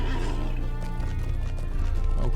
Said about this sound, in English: so let's jump on our horse